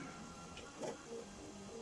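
A 3D printer printing a canopy part gives a faint, steady mechanical whir with a brief swell of stepper motor noise midway, heard alone at low level.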